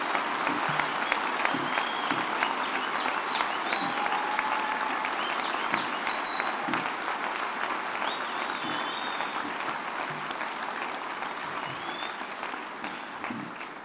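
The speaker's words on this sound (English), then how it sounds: "shall we please give them a collective round of applause" A large crowd at a university summer graduation ceremony applauds in a dense, sustained wash of clapping that holds steady for over ten seconds and fades slightly toward the end, with faint voices and whistles mixed in.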